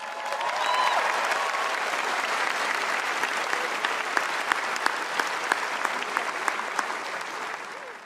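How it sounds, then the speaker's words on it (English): A large graduation ceremony audience applauds in a broad, dense wash of clapping that holds steady for several seconds before tapering slightly, with a few sharper individual claps standing out near the end. "How about another round of applause?"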